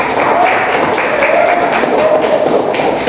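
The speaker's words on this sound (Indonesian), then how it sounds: "Tepuk tangan untuk Mbak" Classroom applause for a student presenter in an Indonesian teacher-training lesson, a loud continuous patter of many hands clapping close by, with faint voices underneath.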